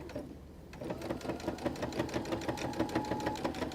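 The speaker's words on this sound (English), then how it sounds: "We have gotten our sewing machine out, and we're going to go ahead and get our monster body sewn up." A sewing machine stitching the body of a fabric monster toy runs in a fast, steady rhythmic whir after a brief quiet start, heard close and alone.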